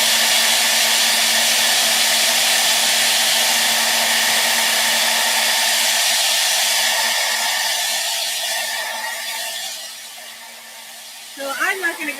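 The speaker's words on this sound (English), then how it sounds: "I'm going to use the hairdryer because that's getting annoying." A handheld hair dryer blows steadily at close range with a loud, constant whooshing hum for about ten seconds, then fades and cuts off, followed by brief handling clatter.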